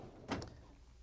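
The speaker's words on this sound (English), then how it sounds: "we're going to open up the freezer door" A Whirlpool refrigerator's freezer door is pulled open with a single short, soft whoosh and a light seal release against quiet room tone.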